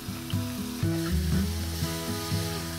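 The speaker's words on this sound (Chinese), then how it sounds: "接着下番茄，一定要炒出香味哦。" Tomatoes sautéing in a pan with a steady close sizzle and frying crackle, plus a few stirring scrapes, with no one talking.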